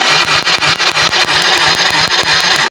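A Yamaha Mio i 125 scooter engine is cranked with its high-tension spark plug wire removed, giving a loud, close, rapid rhythmic churning that runs steadily throughout without catching.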